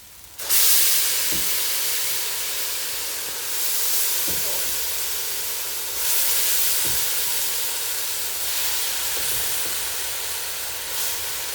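Tomato sauce with onions and thyme being spooned into a hot pan for a homemade vegetarian pasta sauce gives off a steady, loud hissing sizzle, broken by a few soft spoon taps.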